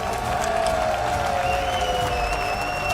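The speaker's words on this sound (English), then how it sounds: "Est-ce qu'on peut les applaudir encore une fois" A crowd applauds a Black Ops 7 esports championship win, dense clapping filling a large space, with some tonal sounds and faint voices mixed in.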